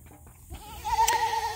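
A goat on a farm lets out a single drawn-out wavering bleat, loud and close, rising out of quiet background noise.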